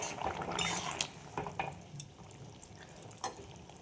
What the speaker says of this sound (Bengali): দেখো ঝোলটা ফুটে গেছে